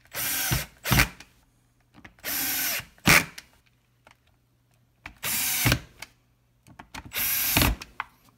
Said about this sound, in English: Torque setting 7 on my drill